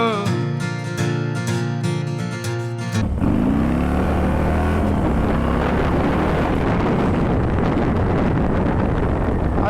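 Wind buffeting the microphone while riding a motorcycle: after a few seconds of music, a loud, steady roar of wind noise mixed with engine rumble takes over and continues without a break, with no talking.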